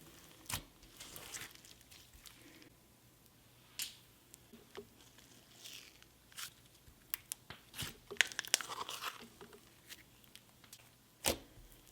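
Crunchy glitter slime is worked and mixed by hand up close, giving scattered crackles, pops and crinkly snaps over a soft squishy bed, with no talking.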